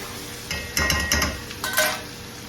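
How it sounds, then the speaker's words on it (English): Garlic and onions with seasoning sautéing in a pan for saltfish and tomatoes, with a few bursts of stirring and utensil scrapes against the pan over a low sizzle. "I'm sauteing the rest of it"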